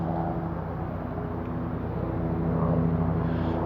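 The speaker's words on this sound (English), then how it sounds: "That's just a plane." An airplane drones steadily overhead, a broad low rumble with a humming engine tone that swells slightly toward the end, with no voices over it.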